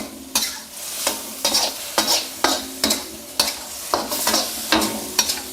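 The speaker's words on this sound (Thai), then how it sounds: "พอซอสข้นขึ้นมาแบบนี้ใส่หมูลงไปเลย หมูตุ๋นช่ำๆเลยนะ ผัดคลุกเคล้าให้เข้ากันครับ" Braised pork is stir-fried in a thickened sauce in a hot pan, with about a dozen rhythmic scraping strokes of a spatula over a continuous close sizzle. No one speaks.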